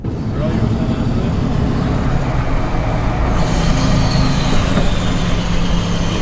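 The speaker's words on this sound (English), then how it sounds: "you just can't beat the sound of a Cummins. Even these brand new ones, I mean with the DPF back exhaust" A new Ram truck's Cummins diesel engine with a DPF-back exhaust runs steadily close by, a loud, continuous low rumble and drone that fills the whole stretch, with voices faintly beneath it.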